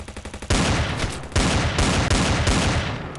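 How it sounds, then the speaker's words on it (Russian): Gunfire in the mobile game Standoff 2, loud close automatic bursts of rapid shots that start after a brief quieter rhythmic lead-in and continue in several long strings. "Блин, стреляет он как-то вообще непонятно."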